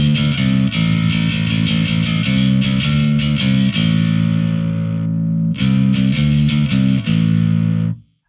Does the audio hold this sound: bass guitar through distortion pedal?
yes